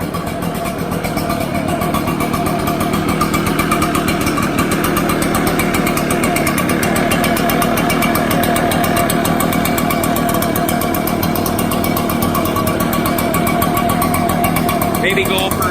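A brand-new ECHO PB-755SH two-stroke gas leaf blower runs during its first break-in, giving a loud, steady engine drone with a buzzing rasp that holds evenly from start to finish.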